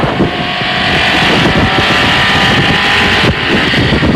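A vintage Mercedes Silver Arrow racing car on the Mille Miglia runs at full throttle with a loud, continuous, close engine roar and heavy wind buffeting the microphone.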